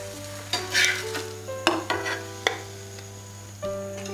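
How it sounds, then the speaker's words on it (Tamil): Adai dosa batter fries on a pan with a soft, continuous sizzle under a low steady hum, while several sharp clinks and scrapes from a ladle or spatula strike the pan at irregular intervals. "இப்படி ஒவ்வொரு கரண்டி மாவாக ஊற்றி அடை தோசையாக வறுத்து எடுத்துருங்க"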